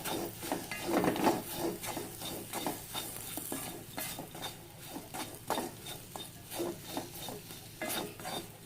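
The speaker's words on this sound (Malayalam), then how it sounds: "ഇനി ഇതിലേക്ക് നമുക്ക് കാപ്സിക്ക ഇടാം അതുപോലെ നമ്മൾ ഇട്ടിരിക്കുന്ന പച്ചമുളക് ഉലി അത് ഇതിലേക്ക് ഇടാം നന്നായിട്ടൊന്ന് മിക്സ് ചെയ്യാം" Capsicum and green chillies stirred in a hot pan while cooking kadai paneer: repeated scraping and clinking of a spatula against the pan over a soft sizzle, loud near bursts in rhythm, no talking.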